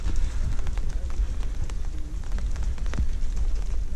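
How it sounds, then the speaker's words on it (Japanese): Steady light rain falls at a hydrangea temple in Oga, Akita, a continuous hiss with scattered patters and low rumble throughout, close and moderately loud with no clear voice. "少しね、雨も降ってますけど"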